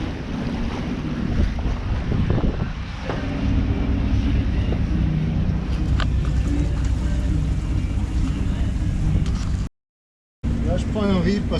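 Strong wind rises at sea on a sailboat, with steady gusty roar, microphone buffeting and wash of waves; the sound drops out briefly near the end, and a voice can be heard faintly.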